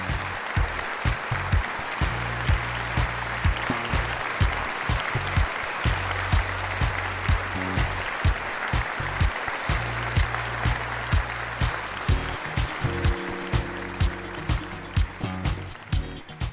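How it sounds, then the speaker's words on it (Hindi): Audience applause rises for a standing welcome of a legendary singer on a televised singing-competition gala stage, a dense, steady wash of clapping that carries on for over fifteen seconds while music plays underneath. "आप सबकी भरपूर तालियों में खड़े होकर इस्तकबाल कीजिए आलमगीर साहब।"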